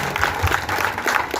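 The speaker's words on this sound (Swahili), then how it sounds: "Sasa tuwapigie makofi nzuri." A gathered crowd at a fundraising meeting claps in brief, steady applause that is fairly close and fills the moment.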